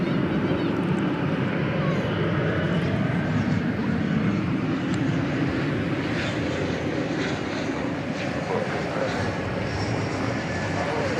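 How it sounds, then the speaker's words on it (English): A Sun Country Boeing 737-800 jet departing DFW at night bound for Minneapolis–St. Paul, a loud steady engine roar filling the whole stretch with no breaks. "Yes, it's a 737-800 going to Minneapolis, St. Paul."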